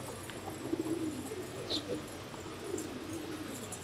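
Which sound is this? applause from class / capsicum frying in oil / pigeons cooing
pigeons cooing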